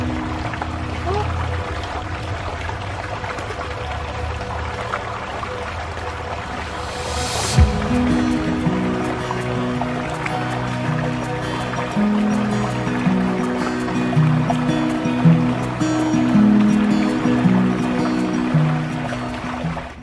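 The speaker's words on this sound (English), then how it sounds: "So I'm gonna take my shoes off and have a paddle as well." A dog and a person paddle through shallow water in Regent's Park, with close splashing, pouring and dripping sounds, a sharp burst partway through and a person talking over it.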